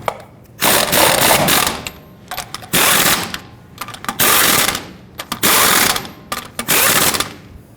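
Wheel lug nuts on a Toyota Tundra being snugged down with a power tool, several separate bursts of loud mechanical whirring and ratcheting, each lasting about a second with short gaps between them, close up and with no voices.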